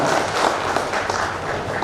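Audience applause at a Tobacco Board gathering, a dense, steady wash of many hands clapping together, loud and close throughout the short burst.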